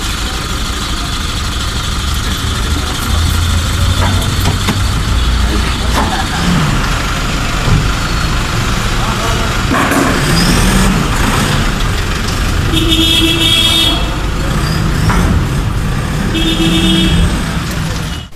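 A car engine runs amid street traffic, a steady, loud rumble of motor noise with other vehicles passing and a couple of brief horn-like tones, heard close throughout without talk.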